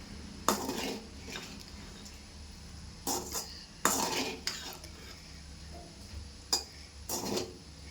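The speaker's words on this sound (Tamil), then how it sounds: "நான் இதுலேயே கொஞ்சம் சாதம் போட்டு கிளற போகிறேன்" Rice being stirred into dry fish poriyal in a pan, a few separate bursts of a metal spoon scraping and clinking against the pan at irregular intervals over a quiet background.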